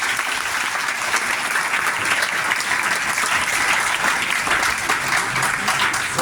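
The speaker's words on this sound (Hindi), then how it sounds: "एक बार वापस बेटा सर के लिए ताली बजाएं।" An audience at a seminar in Jhunjhunu claps together in dense, continuous applause that holds an even level from start to finish, with no pauses.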